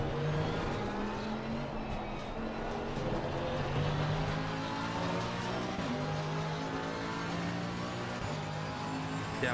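Race car engines roar in Assetto Corsa Competizione, a steady, loud, multi-car drone of revving motors with shifting pitch as the driver battles to overtake a Porsche.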